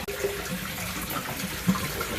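Water rushes steadily out while a State water heater is being flushed, a constant hissing flow with no voices over it.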